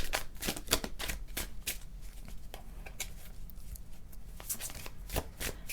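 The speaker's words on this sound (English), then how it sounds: "I'm gonna draw a card." Tarot cards are shuffled before a draw, producing soft, quick riffling and flicking bursts that repeat in short clusters, close and quiet.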